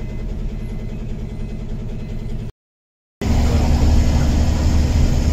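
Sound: car engine while driving on the road

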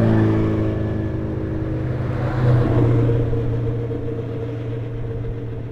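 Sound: race cars descending the Alp 2500 hill climb

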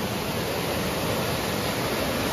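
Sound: small waterfalls at Tamhini Ghat

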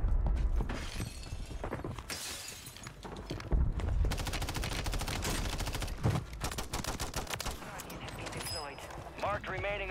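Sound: gunfire from a fight in Call of Duty Warzone video game

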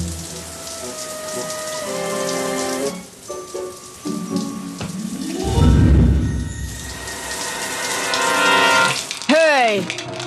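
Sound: shower running water

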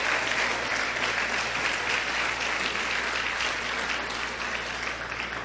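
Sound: congregation applause in church

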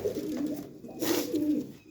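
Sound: pigeons cooing

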